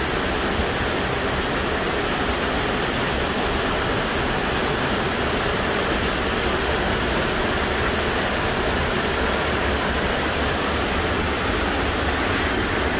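A steady, loud rush of a waterfall near a riverside gold mining camp roars without a break, a constant broadband wash with no voices.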